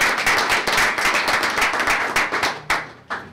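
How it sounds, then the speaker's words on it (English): A small audience at a school district board meeting claps in a brisk burst of close, distinct hand claps that thins out, leaving a few scattered final claps. "Let's give her a round of applause."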